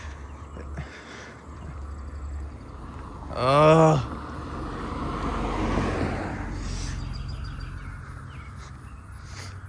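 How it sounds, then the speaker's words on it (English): Car passing on a neighbourhood road amid birdsong and ground crickets, a soft broad whoosh swelling and fading over several seconds at moderate distance, with a bird call and a brief voice just before it. "Great, a car's coming."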